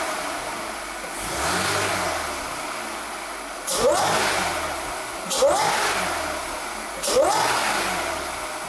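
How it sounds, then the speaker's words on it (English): A rebuilt B8.5 Audi S5 engine idles, then revs up in three short light-throttle blips, each with a rising supercharger whine riding over the mechanical growl. "give it some light throttle and maybe try for some supercharger whine"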